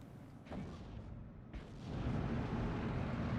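Artillery fire in Steel Division: Normandy 44, heavy booms with a deep rumble, one sharp blast early on and another soon after, then a sustained loud roar of shelling with no voices.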